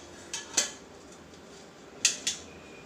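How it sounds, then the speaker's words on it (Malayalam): Metal tray set under the high rack of a home oven while making chicken tandoori, a few sharp metallic clanks and scrapes in two pairs, close and fairly quiet against a soft background hum. "ഞാൻ ഹൈ റാക്കിന് താഴെ ഒരു ട്രേ മാതിരി വയ്ക്കുന്നുണ്ട്."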